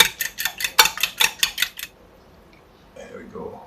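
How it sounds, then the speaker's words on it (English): A whisk beats eggs and milk in a bowl with about a dozen quick, sharp metallic clinks in a fast rhythm. The clinks stop abruptly, leaving near silence with a faint soft sound at the close. "Just use a quick whisk, quick mix."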